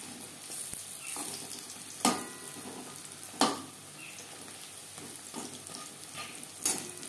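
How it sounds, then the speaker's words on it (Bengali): Gram flour pakoras for a curry pakora dish sizzle in hot oil with a steady bubbling hiss, broken by a few sharp louder clatters or stirs; no talking. "একটা সাইড ভাজা হয়ে গেলে অপর সাইডটা উল্টে দেব"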